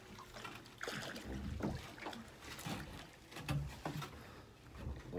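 Oars working a wooden beach boat during herring drift netting at sea, a few soft strokes with splashing water and creaking oar thumps over wind noise on the microphone, no speech.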